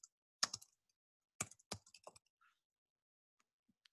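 Keys clicking on a computer keyboard, a few short clustered bursts of typing separated by quiet pauses, close and fairly faint with no talking.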